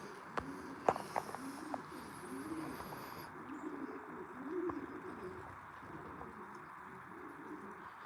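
Pigeons coo in a pigeon loft in the morning, several soft rolling calls over a low murmur of birds, with a few sharp clicks and bumps near the start.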